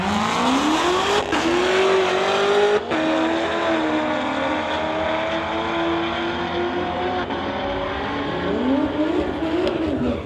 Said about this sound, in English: Audi versus Corvette here at the Friday Night Street Legals on the